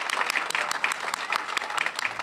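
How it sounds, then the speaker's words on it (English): A crowd applauds at a September 2012 employee recognition ceremony, a dense, continuous wash of many hands clapping close by for a couple of seconds with no talk over it. "How about a round of applause for Helene today"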